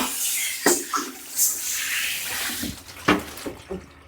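Shower water runs steadily over a dog's thick coat during an at-home bath, a continuous close hiss broken by a few brief splashy bursts, with no talking.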